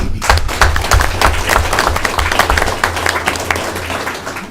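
A crowd applauds steadily, dense clapping filling the whole stretch at a loud, even level.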